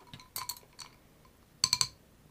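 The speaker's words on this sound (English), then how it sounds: "Just give it a little stir." A spoon stirs a Backwoods Tea cocktail of Climax Moonshine and Hendrick's gin in a glass, giving two close bursts of bright clinking, a softer tap, then three quick ringing clinks against the glass.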